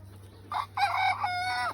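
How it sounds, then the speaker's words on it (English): Brahma chickens and a rooster on a chicken farm, with soft clucking early on, then a loud, close crowing call stretching across the second half over a low steady hum. "these Brahmas are getting big."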